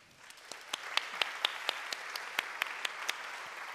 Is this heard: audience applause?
yes